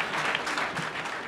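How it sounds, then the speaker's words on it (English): An audience at a startup pitch night applauds, a dense, steady clatter of many hands clapping for just over a second. "When I say give it up, you have to clap."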